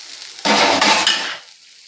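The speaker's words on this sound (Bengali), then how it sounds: "দিয়ে তরকারিটাকে আবারও নাড়াচাড়া করে নেব।" A pot of katla fish curry gives a sudden loud sizzling rush with metal clatter as it is stirred, lasting about a second before fading to a quiet simmer.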